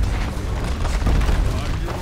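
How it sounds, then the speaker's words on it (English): A tower being destroyed in Dota 2, heard as a dense, rumbling explosion that rolls on under game noise and a voice. "Your middle tower has fallen"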